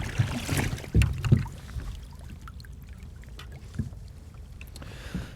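A sea kayak rolls over and is helped back upright, giving soft paddle knocks and sloshing water near the start, then a quiet trickle and gentle lapping with faint wind.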